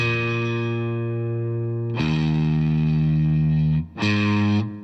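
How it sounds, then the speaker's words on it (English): An electric guitar strikes a dominant 7th chord twice, each ringing, sustained strum loud and close with a brief gap between them, played alone. "the guitar just strikes the chord twice as it did before"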